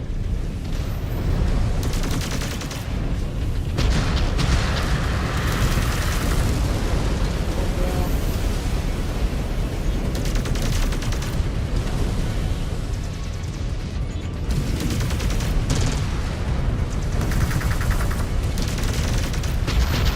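Heavy mech weapons fire and explosions in MechWarrior 5: Clans combat, with dense, continuous booms and bursts roaring loud and close for the whole stretch, and brief radio voices cutting through the barrage.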